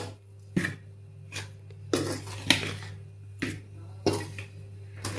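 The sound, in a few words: mixing ragi papad spice premix in a vessel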